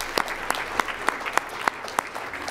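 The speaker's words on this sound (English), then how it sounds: "So a big round of applause for that." Small group clapping at a school board meeting for a swimming record, a sparse, steady run of distinct individual claps at moderate distance, no voices over it.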